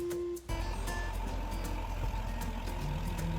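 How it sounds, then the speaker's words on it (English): An HTZ 17221 tractor clearing thick snow runs its heavy engine with a low steady rumble that kicks in loud after a brief lull, with faint clanking over the drone. "The HTZ 17221 tractor is carrying out snow clearing duties, equipped with a powerful engine."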